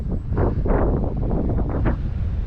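Steady, loud wind buffets the microphone outdoors while an RC plane flies, with rough gusts swelling and easing throughout and no voices.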